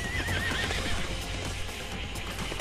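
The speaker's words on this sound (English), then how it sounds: "Copernicus is a beautiful genderless unicorn" A unicorn in a video game neighs in a loud, close whinny, with a clip-clop of hooves and busy game noise around it and no talk.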